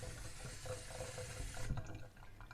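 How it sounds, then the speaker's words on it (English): Filtered water pours into a container in a steady running stream, then stops with a brief clunk, leaving a quieter tail. "Let's put some filtered water."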